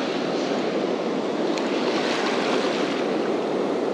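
Surf breaking steadily along Ormond Beach during surf fishing, a continuous loud broadband wash of waves close by with no talk.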